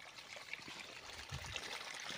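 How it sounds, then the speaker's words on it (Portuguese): A small stream of water trickles past in a rural community in Mozambique, a faint, close gurgle and dribble over quiet background ambience. "A água passa assim."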